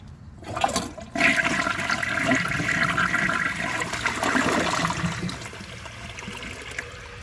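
A 2007 Corona Aquajet comfort-height toilet flushes loudly and close by, with a rushing surge of water that settles into a steady flow and a trickling tail.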